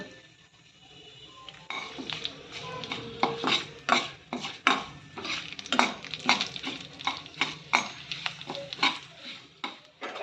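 Continuous sizzling of a spice tempering of split black gram, cumin, chilli pieces and asafoetida in hot oil, with frequent rhythmic scrapes and clinks of a spoon stirring in a metal pan, close and fairly loud.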